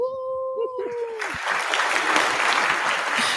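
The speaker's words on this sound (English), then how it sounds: "We're going to give her a clap on that." After a brief tonal sound at the start, an audience breaks into applause at an evening literary and poetry event, a dense, fairly loud burst of clapping that sustains to the end.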